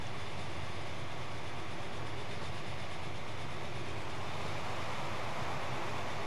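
Trains rolling along tracks in the transport simulation game Transport Fever, a steady, dense rumble of wheels and rail noise filling the whole stretch with no voices.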